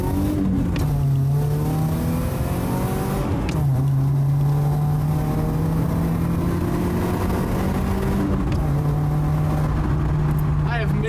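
An older car with a radiator leak patched using JB Weld accelerates on the road, its engine rising through several revs with gear shifts in between, loud and close, while someone talks over it.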